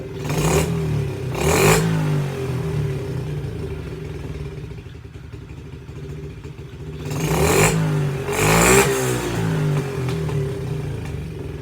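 An SSR pit bike engine idles steadily after a carburetor adjustment, a close putter that swells twice into short throttle blips before settling back to idle, with no talking.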